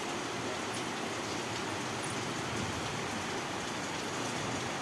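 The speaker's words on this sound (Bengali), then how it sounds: "কেমন বৃষ্টি পড়ছে দেখেছো?" Steady, dense rain hiss falls continuously, a close wash of patter with no voices and no break.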